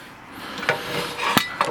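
A cover comes off the drive mechanism of a ride-on toy, giving a few short plastic knocks and clicks close by, with a louder tap near the end.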